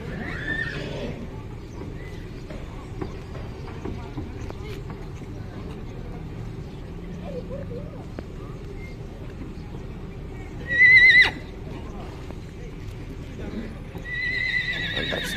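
Horses whinny several times against a steady outdoor background at the Tolo horse market, one neigh early on and a louder, sharper one near the end.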